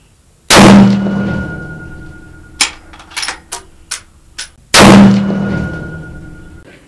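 Two loud, close rifle shots ring out at a 1000-yard steel target outdoors, each with a long booming decay. Several smaller clicks and knocks fall in the gap between them.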